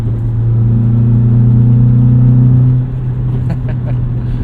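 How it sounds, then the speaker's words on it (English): A 2001 manual Honda CR-V's B-series engine hums and rumbles with induction noise at a steady idle-to-light rev, close and fairly loud, then eases off near the end with faint clicks. "I love the way B-series motors sound. It's that juicy induction noise."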